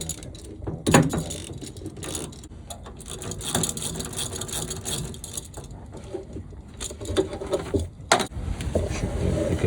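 Ratchet wrench loosening bolts on a Honda Civic belt tensioner, rapid clicking of the pawl heard up close in uneven bursts with a few sharp metallic knocks.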